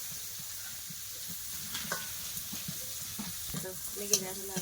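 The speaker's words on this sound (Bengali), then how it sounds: "আদা বাটা একটু ভালো করে ভেজে নেবো" Ginger paste and spices frying in a pan, a faint continuous sizzle with occasional soft scrapes and taps of a stirring utensil, heard up close and quiet.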